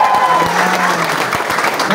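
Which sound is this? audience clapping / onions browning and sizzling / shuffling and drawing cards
audience clapping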